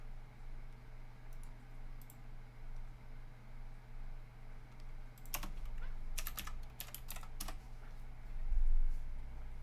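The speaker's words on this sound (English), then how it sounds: "this is my cool keyboard" Clicky keystrokes on a computer keyboard come in scattered short bursts over a steady low electrical hum, fairly faint, with a few quick rapid clusters of keys in the middle.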